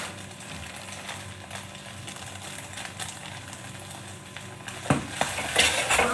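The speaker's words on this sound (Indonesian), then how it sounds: "Aku masak cornet sama butter." Corned beef fries in butter in a pan with a steady close sizzle, broken by occasional scraping and clinking of a utensil against the pan.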